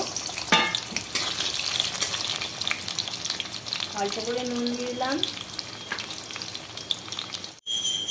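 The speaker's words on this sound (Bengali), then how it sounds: "প্রথমে আলু দিয়ে দিলাম, আলুগুলো ভেজে নেব।" Potatoes fry in plenty of mustard oil in a wok, a steady close sizzle with occasional stirring clinks, while someone speaks briefly over it.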